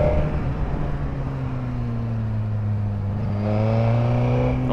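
A Suzuki GSX-R 1000 sport motorcycle pulls hard in second gear, its engine note climbing steadily in a loud, continuous rising drone from the rider's position, with no talk.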